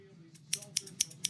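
Scissors snip in a quick series of about four crisp, sharp cuts, close and fairly quiet, with a faint low hum underneath.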